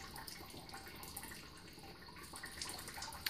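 Maple sap running through 3/16 inch sap tubing, a steady broadband trickle and splash like a faucet left on, continuous and fairly quiet throughout with faint scattered drips.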